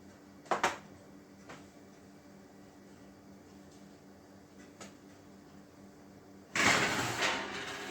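Baked cake pans come out of a home oven: a couple of short knocks early on, quiet room hum, then a louder rushing clatter as the oven is opened near the end.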